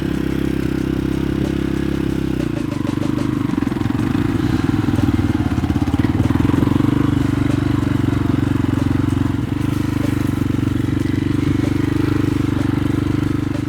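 A Forte Falcon 300 scrambler motorcycle idling with a loud, deep, steady engine drone, then pulling away in first gear with a rougher surge, heard up close.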